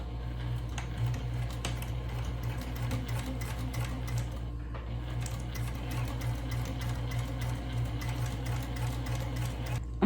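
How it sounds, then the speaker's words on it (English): A sewing machine stitching fabric runs steadily with a rapid mechanical stitching rhythm over a low motor hum, close by and continuous. "We're gonna take it to the sewing machine, and then I'm gonna stitch here all across here."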